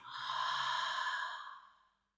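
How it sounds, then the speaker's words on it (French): A single deep exhale through the mouth during a hatha yoga breathing exercise, a soft breathy rush that swells, holds for about a second and fades out, close and alone. "une profonde expiration par la bouche"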